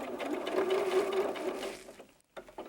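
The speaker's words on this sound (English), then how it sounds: "now we're going to sew from one corner down around the bottom all the way to the other corner" A sewing machine stitching a pocket onto a doll jacket, running from one corner around the bottom to the other: a close, rapid whirring hum that stops briefly and then restarts.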